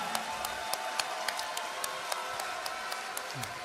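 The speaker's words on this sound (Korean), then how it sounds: "큰 박수 부탁드립니다" An audience at a Democratic Party event applauds, with dense steady clapping from a large crowd and a few sharper claps rising above it, heard from a distance and lasting throughout.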